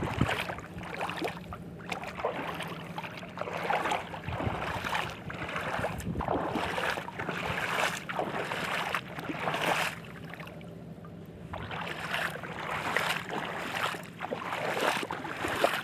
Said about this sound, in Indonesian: Itu kalau kawan-kawan dengar itu bot. Tuh, suara bot.